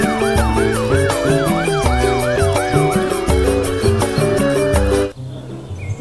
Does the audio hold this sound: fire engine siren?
yes